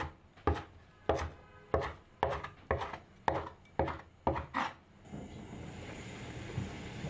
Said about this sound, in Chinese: 香菜切成小段备用。